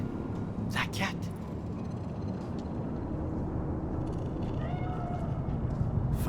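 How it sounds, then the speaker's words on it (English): Cat in the video game Cyberpunk 2077 giving a brief meow, then a faint second call, set against a dense, noisy city ambience. "Do you see it? That cat?"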